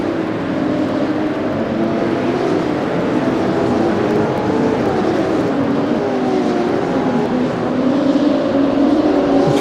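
Several BMW M2 CS race cars lap the Croft circuit in a racing simulator. Their engines drone steadily with no break, layered and fairly loud, while the drivers are still warming their tyres.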